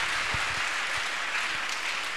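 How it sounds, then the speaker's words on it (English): A church congregation at a Sunday deliverance service claps steadily and loudly, a dense wash of applause with no voices over it. "Please clap for Jesus."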